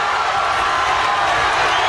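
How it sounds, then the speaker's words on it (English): A crowd at a BAMMA 4 middleweight MMA title fight roars and cheers without letup, a dense, loud wash of voices that fills the whole moment. "And listen to the crowd respond."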